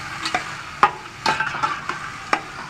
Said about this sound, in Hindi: अब लौकी को अच्छी तरह से तेल के साथ मिक्स कर देंगे ताकि लौकी जो है अच्छी तरह तलीज जाए